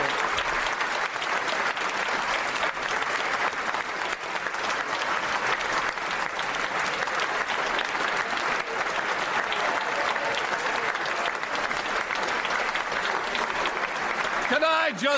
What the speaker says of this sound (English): I'm sorry we're still clapping.